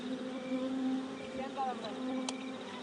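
Honeybees hum and buzz up close in their nest, droning continuously with a few brief higher whines, and faint voices sound in the background.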